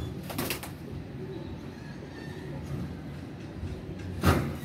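Red-eyed Sialkoti pigeons of a flying breed cooing in their loft, a continuous low burbling chorus with a couple of sharper, louder bursts near the start and end, no voices over it.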